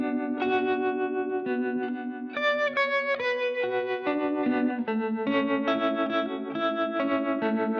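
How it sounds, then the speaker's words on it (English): Electric guitar runs through a harmonic tremolo effect pedal, sustained chords and ringing notes pulsing and shimmering with a wavering volume, steady and close with no voices. "I love a good bit of harmonic tremolo."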